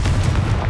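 Confringo fire spell explosion in the Hogwarts Legacy video game: a loud, booming blast with a heavy low rumble that fills the whole short moment, no voices.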